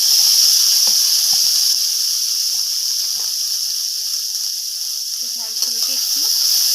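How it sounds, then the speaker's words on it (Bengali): Halved okra fries with a little salt in a hot pan, giving off a steady, loud sizzling hiss with small pops and a faint voice underneath. "ঢ্যাঁড়সগুলোকে একটু সামান্য লবণ দিয়ে একটু ভেজে নেব।"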